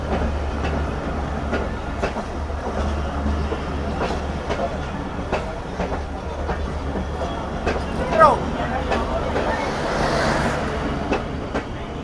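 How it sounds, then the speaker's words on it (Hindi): Shah Latif Express passenger train pulling out of Tando Jam station, a low rumble with regular clickety-clack of wheels over rail joints heard from on board, steady throughout, with a voice talking over it. "दो मिनट से थोड़ा सा ज़्यादा रुकने के बाद टंडोजाम स्टेशन छोड़ रही है शाह लतीफ़ एक्सप्रेस।"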